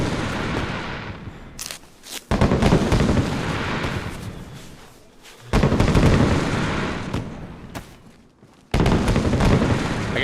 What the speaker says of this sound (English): I'm done listening to these fireworks.